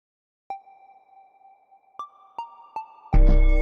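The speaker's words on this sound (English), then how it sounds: "you add a little saturator, a little bit of reverb, a little bit of delay, and you get this synthesizer sound that kind of floats throughout the whole thing" Synthesizer notes processed with saturation, reverb and delay ring out one after another with long, floating tails, followed by a sudden dense, loud burst at the end.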